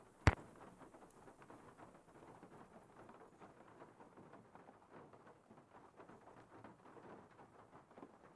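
Storm in Nancy Drew: Legend of the Crystal Skull, set near New Orleans: a sharp thunder crack at the start, then steady soft rainfall pattering on for several seconds, faint and without voices.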